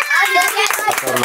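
Children clap together in a classroom during a fifth-grade maths lesson, a brief, busy patter of hands mixed in with a voice talking over it.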